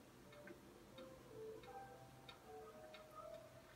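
A metronome ticking in the video game Until Dawn, playing as a faint steady series of sharp clicks at an even tempo over a hushed ambient background.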